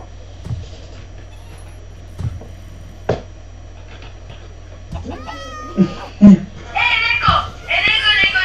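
A Minecraft cat meows several times, mostly in the second half, as a series of close, clear, drawn-out cries over a quiet background with a few soft clicks.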